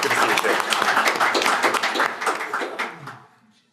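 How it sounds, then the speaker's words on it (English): Audience applause at a panel discussion, a burst of close, fairly loud clapping from a modest crowd that thins out and fades to quiet near the end. "can we give it like a big round of applause"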